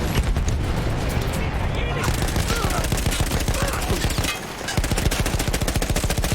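A mounted machine gun in Battlefield 1 firing in long rapid bursts, loud and close with a continuous rattling rhythm, a brief pause before the fire resumes, with someone talking over it.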